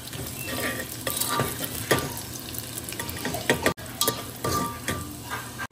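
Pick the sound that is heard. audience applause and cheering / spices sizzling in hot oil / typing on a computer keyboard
spices sizzling in hot oil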